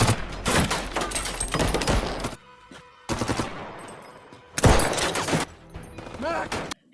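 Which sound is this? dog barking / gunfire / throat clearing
gunfire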